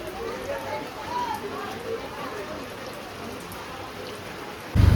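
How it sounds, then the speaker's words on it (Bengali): Heavy rain falling outside a home, a steady broadband hiss of rain on surfaces that continues evenly throughout, ending with a sudden loud bump at the close. "খুব জোরে বৃষ্টি হচ্ছে।"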